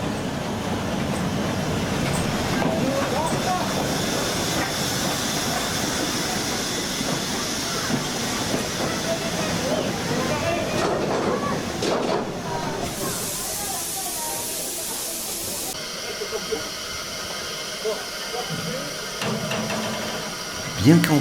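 A restored steam locomotive more than a century old, weighing 60 tonnes, hauls varnished wooden carriages, giving a steady rumbling roll with hissing and spray noise throughout. A brief steam or hiss burst comes in midway, and a voice talks over part of it.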